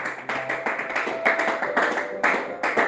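A church congregation claps hands in a fast, rhythmic beat to acclaim the Lord, loud and close, with voices singing along under the claps.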